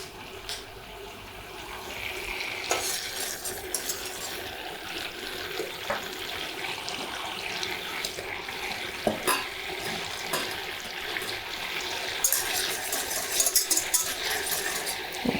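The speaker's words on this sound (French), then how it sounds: "on va remuer pour pas que ça accroche dans le fond de notre casserole" A spatula stirs a bubbling hazelnut and cereal praliné mixture with a whole vanilla pod in a saucepan, producing quiet scraping and soft bubbling with intermittent clinks and taps, close by.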